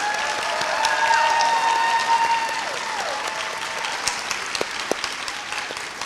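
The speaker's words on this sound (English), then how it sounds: "Can we give Mrs. Lee's homeroom another round of applause" An audience at an elementary school promotion ceremony applauds with dense, continuous clapping and light crowd murmur, tapering off toward the end.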